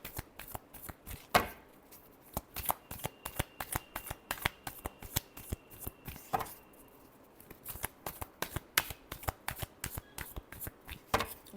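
A deck of cards is shuffled repeatedly by hand, giving quick crisp riffling bursts and taps in an irregular rhythm, close and fairly quiet with no talking.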